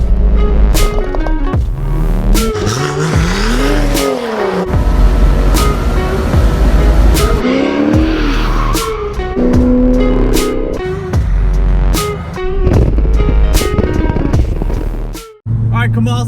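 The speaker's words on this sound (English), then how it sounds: "we go for a ride along in a single turbo E92 BMW 335" A single-turbo E92 BMW 335i with an N54 engine on port-injected E85 roars hard under load as it accelerates through the gears, heard from inside the car. The engine note climbs and drops at each shift while the turbo whooshes, loud and continuous.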